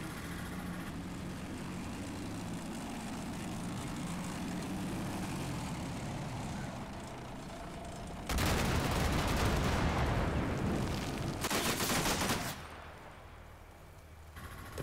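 Machine gun fire from a bunker in the war video game Combat Mission Shock Force 2. A loud, dense burst lasts several seconds over a steady low battlefield rumble, then a second burst follows.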